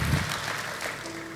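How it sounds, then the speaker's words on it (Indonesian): A church congregation claps for Jesus during an evangelist's sermon, a brief, steady wash of applause from a crowd in a hall. "Oh, tepuk tangan buat Yesus."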